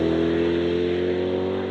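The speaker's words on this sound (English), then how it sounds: "So we've just hit the road in the Corvette." A Chevrolet Corvette C8 3LT Z51 drives on the road, its engine producing a steady, continuous hum with a low tonal drone under even road noise, with no voices.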